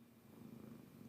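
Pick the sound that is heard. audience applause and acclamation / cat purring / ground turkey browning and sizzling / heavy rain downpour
cat purring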